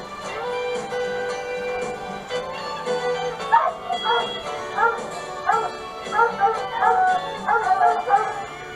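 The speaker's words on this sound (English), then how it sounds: "The dogs have picked up the scent and are closing in on the kitten." Hunting dogs chasing a cougar kitten bay and yelp in a rhythmic series of barks, moderately distant, over a steady bed of background music.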